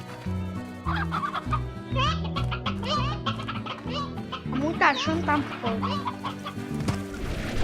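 Cartoonish chicken clucking from the video game Slime Rancher, a series of short, chirpy clucks over a busy game music backdrop, with a person speaking over it.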